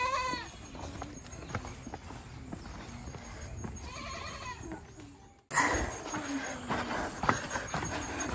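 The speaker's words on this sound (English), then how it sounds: "So many goats." Several goats coming from a market in the Ethiopian countryside bleat nearby in repeated wavering calls, with hooves clopping and a busy outdoor rumble behind them.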